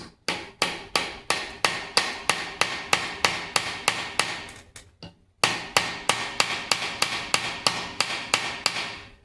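Light hammer taps on the rear axle of a 1972 Pontiac GTO, struck to work loose the U-bolts during a pinion seal job. About twenty sharp, evenly spaced metallic strikes ring out close and clear, with a brief pause midway.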